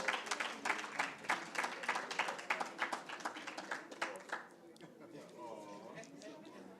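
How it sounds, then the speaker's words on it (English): An audience at a human rights day debating final claps for a competitor, rhythmic, fairly close clapping in quick bursts that dies away, with speech coming in as it fades. "Another round of applause for Joanna."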